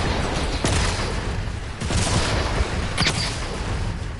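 Loud gunfire in Fortnite, a continuous rattle of shots with a few sharper bursts standing out, close and dominant with almost no talk.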